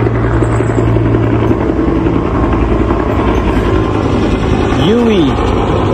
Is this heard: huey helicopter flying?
yes